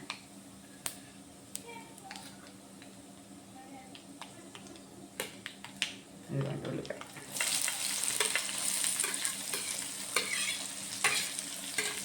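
Cumin seeds hit hot oil in a pan for spinach upma and break into a steady, bright sizzle that swells after a soft stir, with a voice talking faintly in the background.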